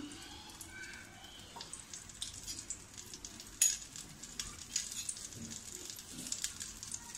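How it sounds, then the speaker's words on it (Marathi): Soft crackling sizzle of spices hitting hot oil in a kadai, fairly quiet, with a few light pops and clinks scattered through. "आता मी त्याच कढईमध्ये फोडणीला घालते, थोडं तेल टाकूया आपण"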